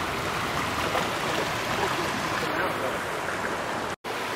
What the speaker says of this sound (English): How do you feel about the waterfall, Evie?